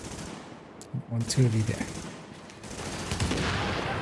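Bursts of automatic gunfire in The Division video game, mixed with a short spoken line and game sounds, the shooting swelling into a steady rattling stretch toward the end.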